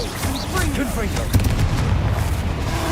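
Rumbling explosive booms from the Confringo blast spell in Hogwarts Legacy, low and continuous with a sharper hit midway, under faint voice-like sounds.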